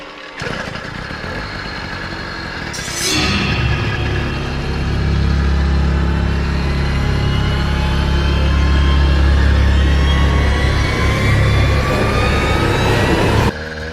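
A 100cc engine on a vintage-style motorbike build starts with a sharp burst, then runs on a test ride at night with a steady, loud, buzzing drone that builds slightly before cutting off.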